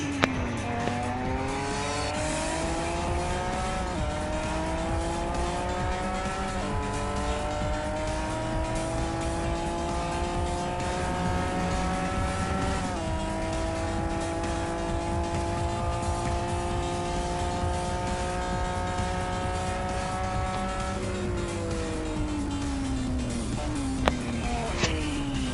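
A race car in the retro racing video game Retro Rivals drives steadily throughout, its engine note climbing and dropping with each gear shift, loud and continuous with a brief squeal of tires near the end.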